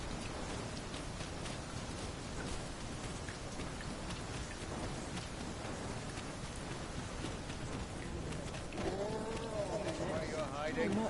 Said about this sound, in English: We can push through a bit of rain.